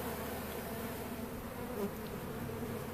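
Honey bees swarm and buzz around a hive being moved from a bait hive to an aquarium hive, a dense, continuous droning hum close by.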